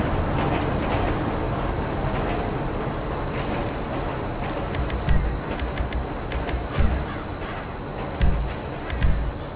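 Train rolling past in GTA V, a continuous low rumble with periodic rhythmic clacks of wheels over rail joints and faint high squeals, fairly loud and steady.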